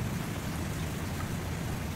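Heavy rain pours steadily onto potted grafted adenium plants, a dense, constant outdoor roar with no pauses.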